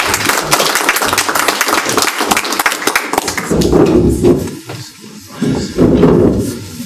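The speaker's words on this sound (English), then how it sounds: "I hope you'll still be applauding after." Audience applause welcoming a speaker at a Princeton Future community meeting, a sustained burst of many hands clapping that thins slightly midway, with voices chattering and murmuring over the later part.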